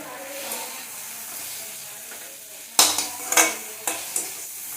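Tomato bath being cooked in a pan: quiet frying under a low background, then a cluster of sharp metallic clinks and scrapes as a utensil stirs and knocks the pan, several bursts in quick succession.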